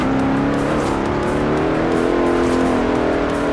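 Car engine from the Forza Horizon 4 racing game, holding a loud, steady high-revving drone that climbs slightly in pitch, with no break and no voices.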